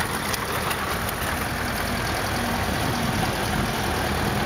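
An old 1960s–70s tractor at a harvest festival parade in Plauen, with a woman at the wheel. Its engine runs steadily throughout at moderate loudness, a continuous idling rumble with no talk over it.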